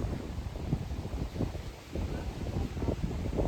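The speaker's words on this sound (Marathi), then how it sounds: "सुंदर असं वातावरण, खूप वारा सुटलेला आहे" Strong, cold wind gusts across the microphone outdoors on a pilgrimage walk toward Trambakeshwar, a rough rumbling buffet that swells and dips over a few seconds.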